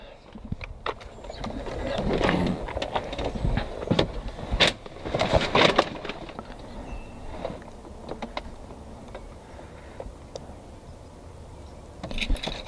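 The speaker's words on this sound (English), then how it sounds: "power windows down here" Electric power windows in a 1982 Datsun 280ZX Turbo whir faintly inside the cabin, mixed with soft clicks and handling noises, fairly quiet and close.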